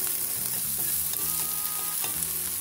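Vegetables for Japanese ginger pork (shogayaki) sizzle loudly and steadily in a frying pan, with occasional scrapes and stirring knocks from the utensil and no talking.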